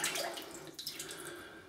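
Water from a tap runs and drips briefly onto a shaving brush being wetted for lathering Pereiras activated charcoal soap, a soft close splash that fades quickly.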